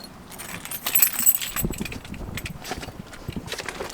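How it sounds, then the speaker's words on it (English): Van keys jangling during a camping trip in Wales: light metallic clinks and rattles near the microphone, irregular and fairly quiet, with faint shuffling handling noise and no talk. "That's the keys to the van."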